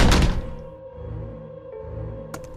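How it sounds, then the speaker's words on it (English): An apartment door banged shut: one heavy, booming thud at the start that rings and fades slowly, followed by a faint small knock near the end, with no voices. "then banged the door"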